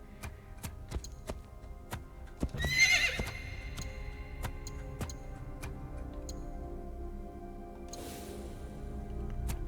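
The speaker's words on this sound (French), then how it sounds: "c'est des beaux chevaux, tous deux" Horses in Assassin's Creed Shadows whinny with one loud neigh early on, over steady rhythmic hoof clops and ticking, with a soft rush of sound near the end.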